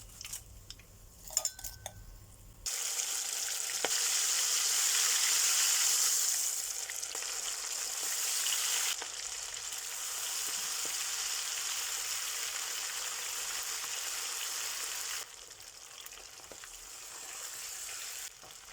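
Chicken pieces with green chilies sizzle and crackle in hot oil, a steady loud frying hiss with occasional clinks of utensils against the pan.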